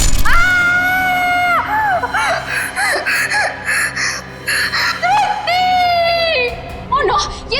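Woman named Juhi screaming and crying out in fear during a crime drama nightmare scene, long sustained high wailing cries rising and breaking, loud and close, with gasping sobs between them.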